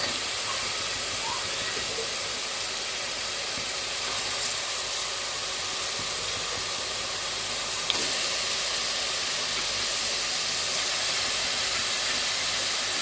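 Cleaned goat liver added to a hot pan for a homemade gravy, giving a steady, even hiss of sizzling that lasts throughout, with one faint clink partway through and no speech.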